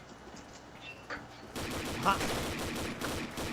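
Gunfire and explosions in the online shooter game Combat Arms, rapid bursts growing louder after a quieter start, with a brief shout over the noise.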